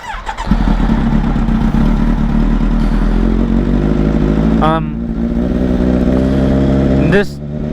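A Honda ADV 150 scooter engine cranks to life and idles with a steady low putter, with two quick revs rising sharply toward the end, heard close and loud.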